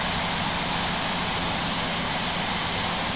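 Steady, dense jet engine roar of an Airbus A320 in the Infinite Flight game, a constant broadband hum holding at even loudness throughout with no breaks.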